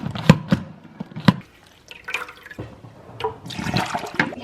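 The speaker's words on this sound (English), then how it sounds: "You just place the berries in there, add water, spin it around" Water splashing and trickling into a salad spinner holding berries, in uneven bursts and gurgles close by in a home kitchen.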